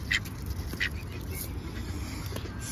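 A duck gives a few quiet, separate quacks close by over soft background noise.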